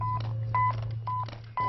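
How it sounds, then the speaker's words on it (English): A warehouse picker's handheld handset sounds a run of short electronic beeps at an uneven pace over a steady low hum. "And this beep controls his working life."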